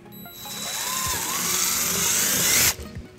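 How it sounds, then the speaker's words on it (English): A power drill with a 3/16-inch bit whines up, grinds steadily through material for a couple of seconds, then cuts off abruptly. "we'll drill our first hole using a 3 16th drill bit"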